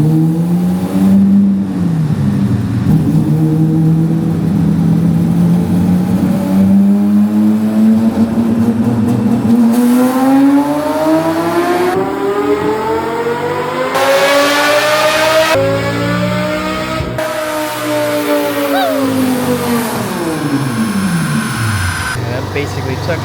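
A V10-swapped Lincoln Continental revs hard on a chassis dyno, engine note climbing steadily through repeated loud pulls toward about 8,000 RPM, pitch sweeping up and dropping back between runs, with voices talking over it.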